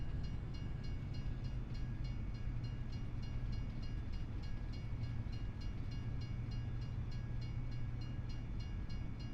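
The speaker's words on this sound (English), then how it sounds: "Canadian trains in Australia, love it." Canadian trains rolling by in Farming Simulator 25, a constant heavy rumble with faint regular clatter of wheels on track and a thin tonal hum, steady throughout.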